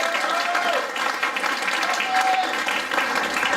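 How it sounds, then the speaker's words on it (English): Audience applause for a speaker at a PANDAunite organization event, steady dense clapping from a crowd filling the whole stretch, loud and close with no speech over it. "let's give a big round of applause to Mike and Freedom 4 for bringing me here."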